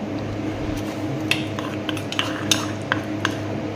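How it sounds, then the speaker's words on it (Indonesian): Flour and water batter being stirred in a bowl with a utensil, soft wet squishing and scattered sharp clinks against the bowl side, close and fairly quiet with no voices. "Dan ini ada terigu, saya akan tambahin air sedikit ya."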